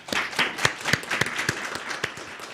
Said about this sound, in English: So please join me in a round of applause.